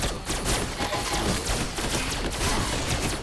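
Dense, continuous gunfire from a weapon in the mobile game Swamp Attack, a loud rapid stream of shots filling the whole stretch with no talking.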